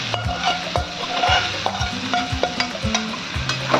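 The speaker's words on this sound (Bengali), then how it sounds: "এই ভাজা মাংসগুলোকে ভেজে দেবো।" Spiced masala with pre-fried meat pieces, for chicken tikka masala, sizzles steadily in a pan over a low gas flame, with repeated close scraping and stirring strokes and occasional utensil clinks. No one speaks.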